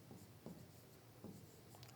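Handwriting with a pen or marker during a biology lesson, heard as quiet, close scratchy strokes in short bursts with brief pauses between them; no one speaks.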